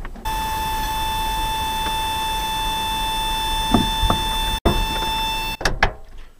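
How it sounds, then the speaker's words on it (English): A steady, loud electronic buzzer drones as a continuous tone with a few brief clicks and a sharp cutoff near the end. "That buzzer is my least favorite sound ever."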